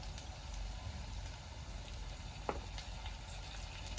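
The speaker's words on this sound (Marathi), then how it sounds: "आता ते आपण परतून घेऊया" Chopped tomatoes sizzle softly and steadily in a pan for Szechuan tadka chicken, a faint continuous frying hiss with one or two light taps of a utensil.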